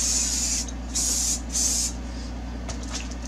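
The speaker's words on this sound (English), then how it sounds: "So we're going to spray this again." Three short bursts of aerosol spray paint hiss close by as pink paint is applied to a glow fishing dodger for kokanee salmon, separated by brief pauses, followed by a few faint clicks.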